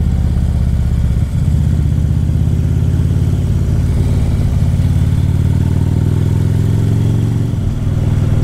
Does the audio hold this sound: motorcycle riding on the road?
yes